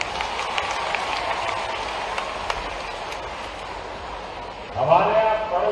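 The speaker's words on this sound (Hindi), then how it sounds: "अपने आप के लिए ताली बजाओ" An audience at a government event in Indore claps in a steady, moderately loud wash of applause, with a brief louder rumble near the end.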